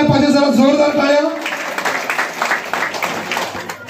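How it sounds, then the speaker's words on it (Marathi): At a BJP Scheduled Caste wing gathering in Bhiwandi for the Constitution pride campaign, a voice briefly speaks over a microphone. A burst of crowd clapping then follows for a few seconds and gradually thins out. "जरा जोरदार टाळ्या"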